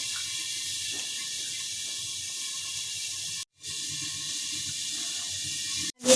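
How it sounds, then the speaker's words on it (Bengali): Vegetable stems for a Bengali chorchori fry in a pan with a steady, close sizzling hiss that runs almost unbroken, cut briefly twice, with no talking. "ডাঁটা চচ্চড়ি শুরু হলো করা, ভাজা করে দিচ্ছি একটু"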